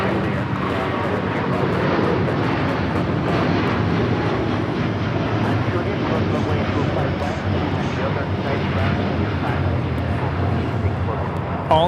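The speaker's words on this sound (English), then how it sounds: "125 taking off to Tokyo Haneda on the 787-9 Dreamliner, the Star Alliance livery." An All Nippon Airways Boeing 787-9 Dreamliner in Star Alliance livery taking off from LAX, a broad, steady jet roar sustained throughout with a voice talking over it.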